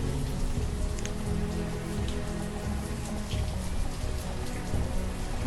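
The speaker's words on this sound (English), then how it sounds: "not the best time to be building while it's like raining like that" Steady rain falls in the village-building game Banished, a dense even patter with scattered brighter drops throughout, moderately loud and without speech.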